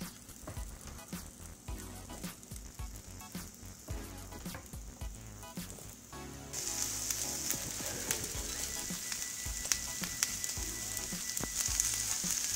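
Chopped capsicum sizzles and crackles in hot oil, a steady frying hiss that grows louder partway through, with occasional clinks of stirring.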